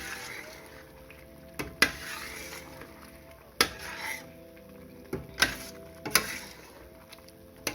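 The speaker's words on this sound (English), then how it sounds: "Give it a stir." A spoon stirs pork and carrot curry in a pot, with a low steady sizzle underneath and sharp scraping knocks against the pot at irregular intervals.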